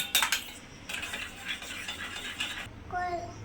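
Eggs are beaten with salt in a bowl, a quick rattling clatter of utensil against the bowl at the start, then softer steady whisking scrapes, close by, with a brief faint voice near the end.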